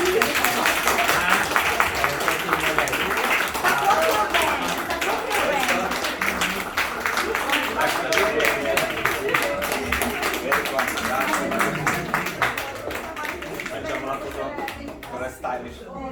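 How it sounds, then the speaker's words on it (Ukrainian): An audience at a project presentation applauds in a dense, sustained crackle of clapping that carries on for a long stretch and thins toward the end, with a voice speaking over it. "Так, аплодуємо, подивіться."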